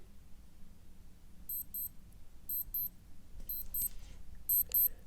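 A faint, high alarm from a cheap Constant large-dial LCD digital watch beeps in quick double pulses, repeating several times over a quiet room hum.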